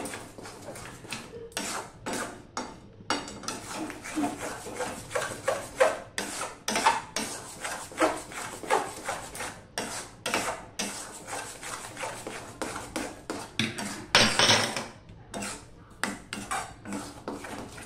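A spoon scraping and stirring a thickening amla candy mixture with cornflour in a kadai, making rhythmic, close metallic rasps and clinks with brief pauses.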